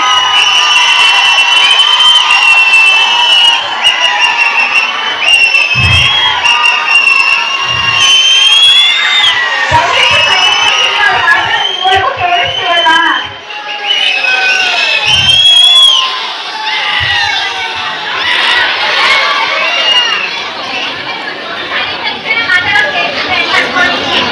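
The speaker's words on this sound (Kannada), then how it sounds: "ಕ್ರೌಡ್ ಹಾಗೆ ಕೇಳಿಸ್ಕೊಳ್ಳಿ" A loud crowd at a college send-off function cheers, shouts and whoops continuously, with excited young voices and high-pitched yells layered over steady chatter, swelling in bursts throughout.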